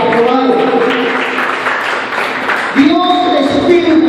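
Applause from a congregation at an apostolic youth church service in Venezuela: a steady wash of clapping fills the room, with voices and tonal sound mixed in throughout.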